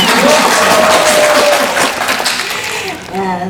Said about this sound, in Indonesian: Tepuk tangan sak stasiun.